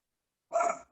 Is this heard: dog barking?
yes